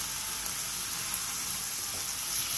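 Pork shoulder and aged kimchi stir-fry in sesame oil over high heat with a dense, steady hiss of sizzling that stays loud and even throughout. No voices.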